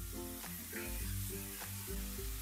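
Diced potatoes and cauliflower sizzling as they go into a frying pan over low-fried ginger for aloo chowmein, a steady close frying hiss with stirring, under music with a regular beat and no talk.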